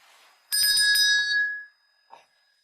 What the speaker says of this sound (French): Il y a une cloche.